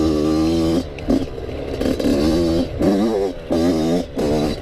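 A dirt bike engine holds a steady, mid-range drone in third gear on a trail, loud and close, with the tone rising and dipping in repeated surges and short breaks as the throttle shifts.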